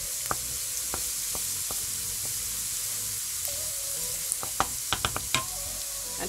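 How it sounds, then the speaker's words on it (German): Garlic sautéing in fat in a pan for a wild mushroom dish, giving a steady close sizzle dotted with sharp pops and crackles, with a few clicks of stirring toward the end. "Nun kommt auch unser Knoblauch dazu. Auch der darf schön mit anschwitzen."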